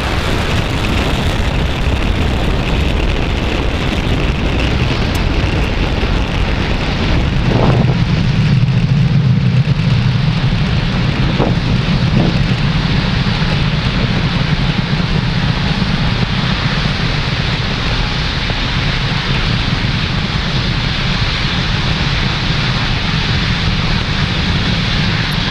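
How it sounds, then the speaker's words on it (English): A SpaceX Falcon 9 rocket lifts off carrying Globalstar satellites, a loud continuous broadband roar that rumbles steadily throughout without letup. "Falcon 9 has successfully lifted off with Globalstar FM-15 satellites"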